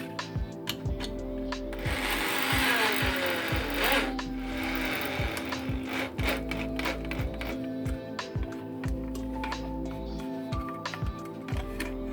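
Phillips-head Taparia 4-inch screwdriver bit driving screws into a switch board during stabilizer installation, heard as a steady close motor whir broken by repeated short rhythmic clicks and ratcheting bursts, with no talking.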